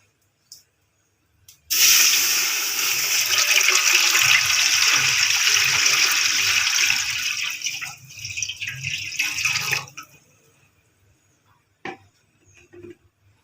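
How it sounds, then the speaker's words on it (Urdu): Water runs steadily into a large cooking pot, about four litres poured for a mixed moong and masoor dal, a loud continuous splashing rush lasting around eight seconds, then stopping, followed by a few faint clinks. "سب سے پہلے ہم اس میں پانی ڈالیں گے۔"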